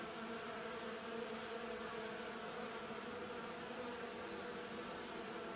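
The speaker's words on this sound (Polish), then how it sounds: "Wszystkie pszczoły pomału przechodzą" A steady swarm of Buckfast honeybees hums and buzzes continuously around a hive, many wings droning together at close range with no pauses.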